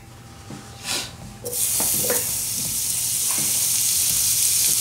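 Butter hitting a pan over medium-high heat while making sausage gravy, a few soft knocks giving way to a loud, sustained sizzle that holds steady to the end.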